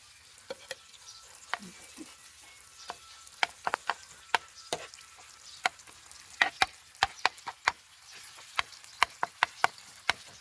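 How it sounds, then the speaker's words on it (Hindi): Goat brain roasting in ghee-fried masala for maghaz masala, a soft, low sizzle under sharp, irregular clicks and taps of a spoon stirring against the pan. "अब हम इसमें मगज़ शामिल करेंगे और इसकी अच्छी तरीके से भुनाई करेंगे।"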